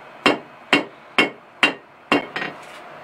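A hammer strikes a copper ring strip during hand forging, five sharp evenly spaced metallic blows followed by a lighter double tap, close and loud with no talking.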